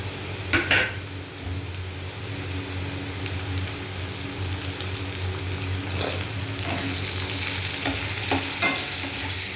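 Cut onion goes into a pan with half-fried potato and sizzles steadily while a spoon scrapes and stirs now and then, a few sharp clinks standing out over the constant frying hiss.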